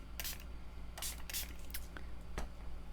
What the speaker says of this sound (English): And I'm just going to spray it,